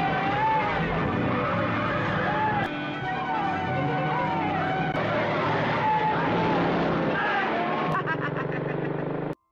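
A speeding car races a bus toward a border area on a jungle road, its engine roaring and tyres hissing under talk and music, with brief skid-like surges and a sudden cut at the end.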